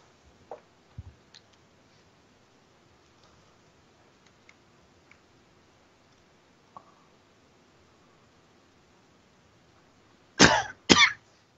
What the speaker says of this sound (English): Excuse me for the cough, by the way.